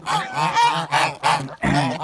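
Kholmogory geese honk loudly and close, several harsh nasal calls in quick, uneven bursts over about two seconds with no talking.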